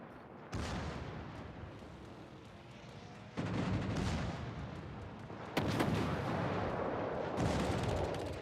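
Heavy naval guns fire in a World of Warships battle, three or four loud booming salvos spaced a few seconds apart, each followed by a long rumbling decay.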